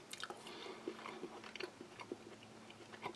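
Close, quiet chewing of pork from a Polish Arpol off-road field ration, with repeated soft bites and moist crunches in an irregular rhythm, no talking.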